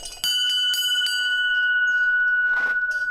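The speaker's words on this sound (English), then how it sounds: "Just ring the bell and let her know that we arrived." A bell rung at a building entrance during a road trip in Lithuania gives several sharp strikes with long ringing tones that sustain and slowly decay, loud and close, with a brief rustle near the end.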